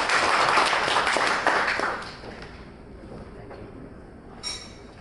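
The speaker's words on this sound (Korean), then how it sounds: "첫 연자 박수 맞아주세요." Applause from a seminar audience at a workshop welcomes the first speaker, a broad wash of clapping that is loud at first, then fades after about two seconds into quiet room noise with a brief clink near the end.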